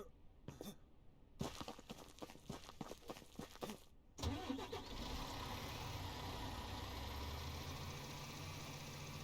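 In the farming video game Ranch Simulator, a truck engine turns over and catches, then settles into a steady, rumbling idle. Footstep-like clicks and handling noises come before it, all fairly quiet.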